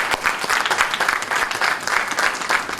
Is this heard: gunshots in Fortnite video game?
no